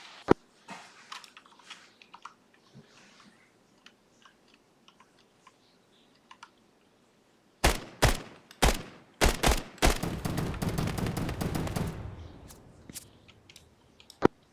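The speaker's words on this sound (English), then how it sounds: "I have audibles on a heavy crew-served weapon" Heavy crew-served weapon fire in the SOCOM tactical shooter, Operation Iron Justice: after a quiet stretch, loud sharp bursts of rounds arrive in quick groups, then settle into a sustained rumbling barrage before thinning out.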